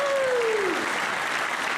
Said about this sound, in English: Can I get a round of applause for the college football season about ready to start?